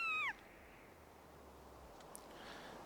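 A squirrel-like cat creature in the video game Zelda: Skyward Sword gives one short, bright meow at the very start, followed by a quiet, steady ambient hum.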